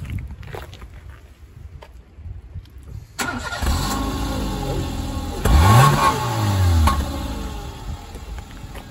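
A Peugeot 206 with a stage 1 tune running on ethanol cranks and fires up, then its engine revs hard a couple of times with a rising and falling roar over a rough idle, heard from the rear.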